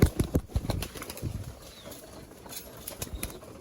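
A burst of rapid wing flapping from female pigeons, loud at the start and then settling into softer, scattered flutters.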